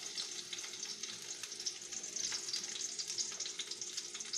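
Garlic fries in olive oil for a homemade pizza sauce, a soft, even crackling sizzle full of tiny pops, fairly quiet and steady with no voices over it.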